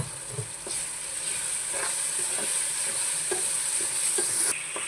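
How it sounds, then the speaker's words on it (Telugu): Ginger garlic paste being stirred into softened tomatoes in a pan: a continuous soft sizzle with hiss, punctuated by repeated spatula scrapes and taps at an even, unhurried pace, fairly quiet and close. "ఇప్పుడు అల్లం వెల్లుల్లి పేస్ట్ వేసుకుందాం కలిపేసుకుందాం"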